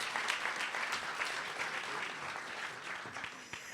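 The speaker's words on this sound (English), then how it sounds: "let's give them a round of applause" Audience applause fills the room after a host introduces competitors at an Africa Innovate business plan competition at the MIT Media Lab: a steady, dense wash of many hands clapping, sustained at an even level throughout.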